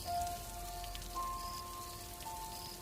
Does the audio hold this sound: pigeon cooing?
no